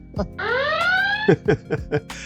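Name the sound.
alarm going off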